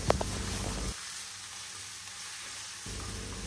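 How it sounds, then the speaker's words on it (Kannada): Onions frying with cloves and cardamom in a pan, a steady close sizzle with a few clicks at the start, dropping to a quieter hiss through the middle before the fuller sizzle returns. "ಅಷ್ಟು ಚೆನ್ನಾಗಿ ಈ ಈರುಳ್ಳಿಯನ್ನು ಫ್ರೈ ಮಾಡ್ಕೊಳ್ಬೇಕು."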